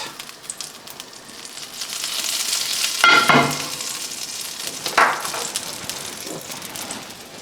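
Butter melts in a preheated pan over lowered heat, a steady sizzle and crackle with brief louder spatters near the middle, no voices.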